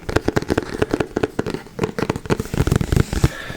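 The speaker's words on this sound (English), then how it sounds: "the tapping on this box specifically sounds better without the nails" Fingernails tap rapidly on a box, making a dense stream of crisp, close clicks and knocks in an irregular quick rhythm.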